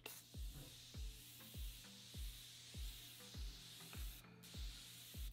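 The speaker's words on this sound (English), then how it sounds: "I'm just gonna use like a really simple setting spray" Setting spray, a continuous-mist type, applied to the face, heard as a steady hissing mist with a regular series of soft low thumps, alone with no talk.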